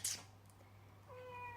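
A house cat lets out a short, faint meow near the end, preceded by a brief rustle or thump, in a quiet room with a steady low hum.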